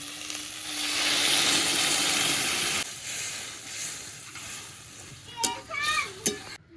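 Eggplant, potato and jackfruit seeds fry and get stirred in a pan, giving a loud, steady sizzle that fades into softer scrapes, then a few sharp clanks of the utensil near the end.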